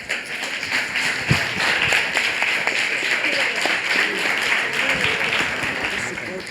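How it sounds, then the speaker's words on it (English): An audience at a Goa heritage quiz semi-final applauds quiz team 1, a dense, steady wash of many hands clapping for the full stretch with a few sharper nearby taps and thuds mixed in. "a lot of support and a lot of claps for team 1"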